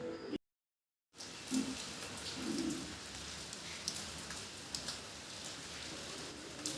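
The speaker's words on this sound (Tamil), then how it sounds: "என்ன மழை சத்தம் தான் பார்க்குறீங்க ஆமாம் மழை வந்துடுச்சு" Steady rain falls on surfaces with scattered drips and patters, a continuous soft hiss after a brief silent gap at the start, no voices.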